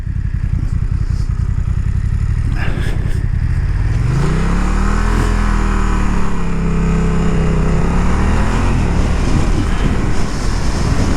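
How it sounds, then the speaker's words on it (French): A car approaches on a gravel road in the Forest of Nieppe, heard from a moving motorcycle. Its engine tone rises and then falls beneath a loud, constant engine and wind drone. "mais je pense qu'il y a une voiture qui arrive."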